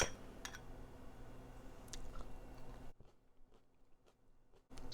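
Someone chewing a mouthful of broccoli stem stir fry, soft wet crunches and bites close to the microphone, quiet and irregular with a brief near-silent pause.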